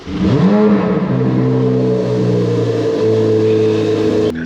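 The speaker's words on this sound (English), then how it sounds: "Move it, wake it up, start the car." A Chevrolet Corvette Z06 cranks and fires up, the starter whine sweeping into a loud rising rev that settles into a steady, close idle, with no talking over it.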